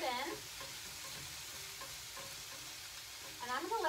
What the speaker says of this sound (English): now I'm going to add my shrimp right in there